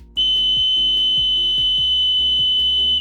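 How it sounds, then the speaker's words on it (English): A loud, piercing emergency whistle from a 6-in-1 hunting tool holds one shrill steady tone for about three seconds, very close, with faint thumps underneath. "Where's the emergency whistle?"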